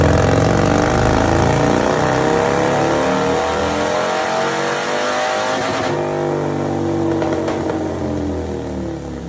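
A loud 205-horsepower Harley motorcycle engine revs up and down, its pitch sweeping and rumbling close by for several seconds, with no talking.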